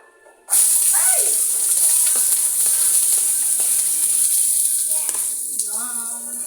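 Garlic and onion hit a hot, smoking pan for adobo and burst into loud, sustained sizzling that carries on steadily close by, with a voice briefly speaking over it.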